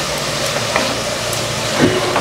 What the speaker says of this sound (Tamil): அப்படி கொஞ்ச நேரம் வதங்கட்டும்.